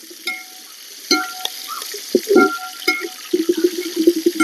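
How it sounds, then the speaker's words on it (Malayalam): Small shallots and green chillies sauté in a pan with oil, sizzling softly while a utensil scrapes and clinks in irregular stirring strokes, growing busier toward the end. "ചെറിയ ഉള്ളിയും പച്ചമുളകും ഇതൊന്ന് വഴണ്ട് വരട്ടെ."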